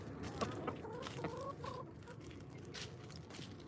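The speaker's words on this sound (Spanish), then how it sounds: "Ahí viene la gallinita aprovechando el residuo que queda por aquí." Hens pecking at leftover grape residue give soft, intermittent clucks over a constant outdoor background, fairly faint and close.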